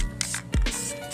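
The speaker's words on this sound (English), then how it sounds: "We're gonna spray one more coat so that way this can easily stick onto here." Spray paint hisses onto a Desert Eagle pistol in two short, close bursts, with a dull thump between them.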